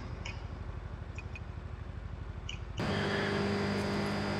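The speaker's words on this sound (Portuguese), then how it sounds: "eu tô pilotando a moto aqui e vou te dizer, a moto é bem divertida de pilotar nesse jogo" A motorcycle in Watch Dogs rumbles with a low, rapid engine pulse, then abruptly shifts to a louder, denser roar as it accelerates, steady and close with no talk.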